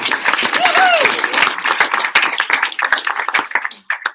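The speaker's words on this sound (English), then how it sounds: "So I just want everybody to give each other a round of applause for showing up." Applause from a live audience at a motivational talk, a dense wash of clapping hands that runs steadily for about three seconds before thinning out and stopping, with a short whistle-like tone rising over it near the start.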